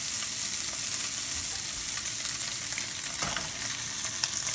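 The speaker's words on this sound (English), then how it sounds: "Now let's just put our little pieces of spam in piece by piece" Small pieces of Spam frying in a hot pan, with a loud, continuous crackling sizzle and a faint clink partway through.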